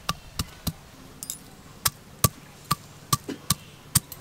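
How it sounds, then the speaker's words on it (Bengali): Ginger being pounded into a paste on a kitchen grinding stone, a series of about a dozen sharp, irregularly spaced knocks, close and clear against a quiet background. "আর এদিকে আমি আদাটা বেটে নেব।"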